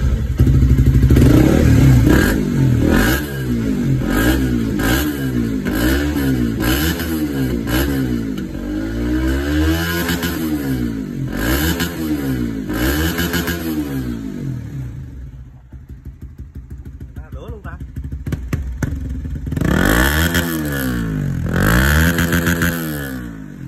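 An old motorcycle used for carrying goods starts and revs through a loud exhaust, each throttle blip rising and falling in a rhythmic run of close, thumping surges, then easing to a rough idle before revving hard again.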